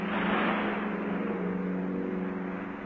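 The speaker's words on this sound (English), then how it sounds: "I say that sound you hear is the sea." Steady broadband wash of sea on a strand, heard as an effect in a BBC radio play from 1959, continuous and fairly close with a low rumble beneath, no voices over it.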